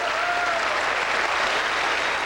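A crowd at a McCain campaign rally in New Hampshire bursts into applause, a thick continuous roar of clapping that holds evenly throughout, with a brief whistle-like tone near the start.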